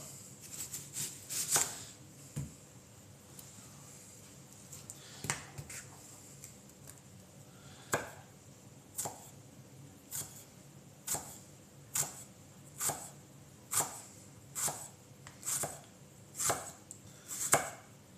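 A knife chops spring onion finely on a board in steady, crisp, close taps, quick bursts at first, then regular strokes about a second apart, with no talking.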